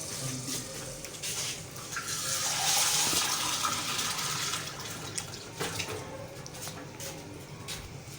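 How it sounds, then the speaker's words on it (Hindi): Water poured into a pot of fried meat while cooking biryani makes a steady splashing, gushing pour that swells in the middle and then tapers off, with no talk. "गाइस हमारा गोश्त फ्राई हो चुका है, हम डालने लगे हैं पानी।"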